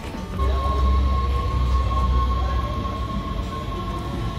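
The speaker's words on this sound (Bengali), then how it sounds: "এবার মেন আমরা যে ট্রেনটা ধরে পুরো নামবো উইন্ডমিল ভিলেজ" Steady rumbling of a moving Dutch train heading to the Zaanse Schans windmill village, a continuous low drone of wheels on rails with a faint whine, no voices.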